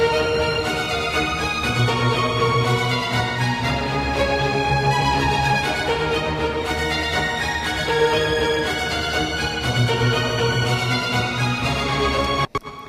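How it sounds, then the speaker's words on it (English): An orchestral action cue with legato strings sustains over a driving rhythmic bed, dense and loud throughout, with no voices, ending in a sudden cut. "So this is what it sounds like playing with some legato strings over the top"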